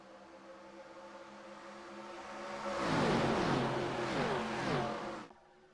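Race cars accelerating at Daytona during a 1987 MOTD event, a roaring pass that swells to a peak and fades, heard from a distance with engine whine rising, no voices over it.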